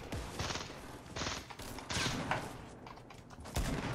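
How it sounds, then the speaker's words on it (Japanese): Rapid bursts of gunfire crackle through a Fortnite match in several clustered volleys, with mechanical clatter between shots, fairly close and steady for the whole stretch. "狙われてる狙われてる、なんか撃ってるぞ"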